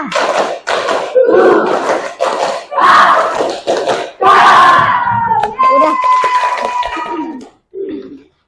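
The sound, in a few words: class doing tepuk semangat clapping chant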